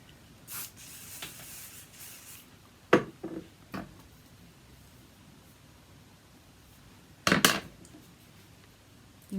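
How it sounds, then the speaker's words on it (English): A few short hairspray aerosol bursts, one sharp hiss early and a longer double burst later, close by against a quiet background. "Sometimes I will spray with hairspray."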